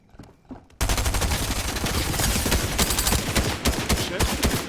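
Sustained, rapid Fortnite gunfire erupts after a brief quiet opening, dense overlapping shots crackling loudly and continuously with no talk over it.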